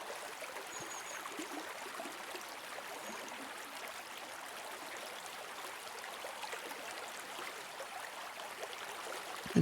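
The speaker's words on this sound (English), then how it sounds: "the sound of the water flowing beneath you" Water flows in a stream beneath a bench, a soft, continuous rushing and gurgle heard faint and steady from start to finish, with no talk.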